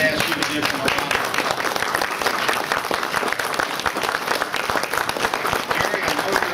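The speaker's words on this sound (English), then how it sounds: "I would like to ask you to give him a round of" Sustained, dense applause from a full audience at an Eastern Airlines pilots' memorial ceremony, steady and loud for the whole stretch.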